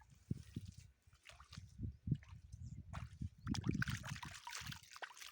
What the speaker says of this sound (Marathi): अशा प्रकारे तिळाला पाणी देणं चालू आहे बघा